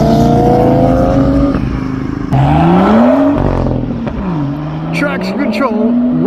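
Nissan Skyline revving as it pulls away from a car show, its engine note rising and falling loudly through several gear pulls, with crowd voices and other traffic around it.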